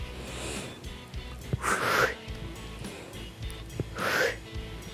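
Two forceful breaths out during a kinesiotherapy exercise session, each a sharp, breathy whoosh a couple of seconds apart, close to the microphone with faint background noise and no speech.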